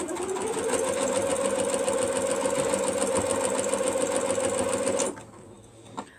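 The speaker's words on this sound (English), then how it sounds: "now I want to take this middle one and the one I got over here and we're going to sew it down" A sewing machine stitching quilt pieces together, running steadily and loudly at close range for about five seconds, then stopping abruptly, followed by a faint click.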